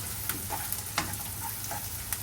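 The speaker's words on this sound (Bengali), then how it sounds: "পেঁয়াজের সাথে যদি একটু কাঁচামরিচ ভেজে নেওয়া যায়" Onions and green chilies fry in a pan with a continuous close sizzle, punctuated by light scraping taps of a stirring utensil, no voices.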